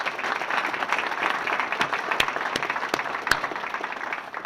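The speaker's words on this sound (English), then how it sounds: "And let's give them another round of applause." Steady applause from a ceremony audience for the naming of the Leon Owens Winner's Circle and Performance Center in Murray, a dense, even patter of many hands with a few sharper claps standing out, moderately loud throughout.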